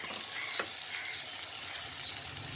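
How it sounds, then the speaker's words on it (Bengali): Khichuri ingredients are stir-fried in a pot, a soft steady sizzle with a few light scrapes of a spoon, fairly quiet and close, with no one speaking. "2-1 মিনিট নেড়ে চেড়ে ভাজি করবে।"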